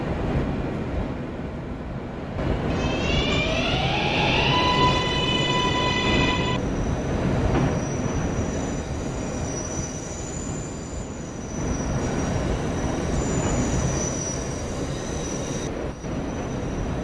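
A New York subway local train rides along with a loud, continuous rumble and clatter of wheels. Rising whining tones sound early on, then high-pitched wheel squeal comes and goes as the car rolls on.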